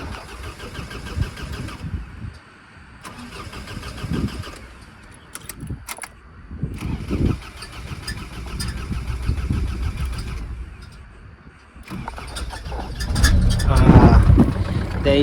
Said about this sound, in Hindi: आते ही सबसे पहले गाड़ी स्टार्ट करो, क्योंकि स्टार्ट नहीं होगी।